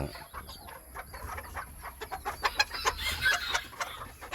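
Chickens on a Thai farm at morning, being given away, cluck and call in a continuous busy flock chatter, fairly close, with rustling and occasional louder squawks, no talking.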